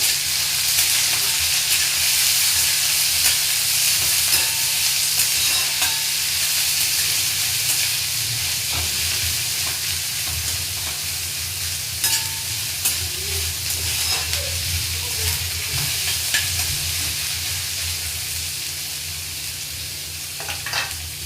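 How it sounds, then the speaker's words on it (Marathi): Onions frying in oil for a fish dish give a continuous, close sizzle and hiss, with occasional sharp crackles and light stirring clatters over a low steady hum. "सोनेरी रंग येईपर्यंत कांदा आपल्याला चांगला भाजून घ्यायचा आहे"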